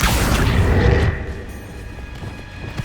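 A Confringo fire spell exploding in Hogwarts Legacy: a single loud, close boom in the first second that fades into a low rumbling tail.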